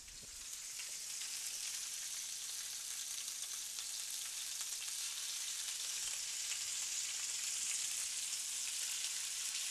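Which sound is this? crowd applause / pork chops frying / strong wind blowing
pork chops frying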